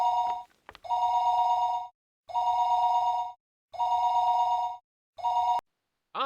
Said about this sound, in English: Distressing phone calls like this are just one of the many types of scripted events you will come across while playing.